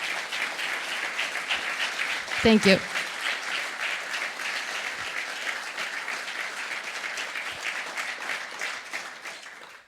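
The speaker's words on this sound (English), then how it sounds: "Let's give an applause to Jane and show our solidarity." Conference audience at an iOS developer event applauding after a talk, sustained clapping throughout, with a brief spoken thanks and a short louder burst partway in.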